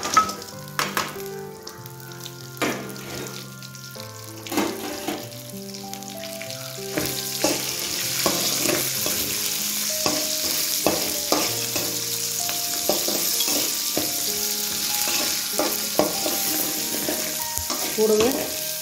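Onion, garlic cloves and dried red chillies fry and sizzle steadily in a pan for a chutney, with stirring scrapes and clinks breaking through a continuous crackling hiss that grows fuller as it goes on.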